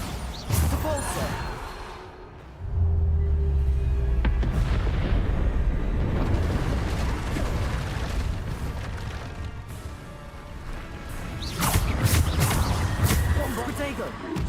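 Spell-casting blasts and booming explosions in the game Hogwarts Legacy, repeated heavy impacts and rumbling bursts in close succession with a voice speaking over them.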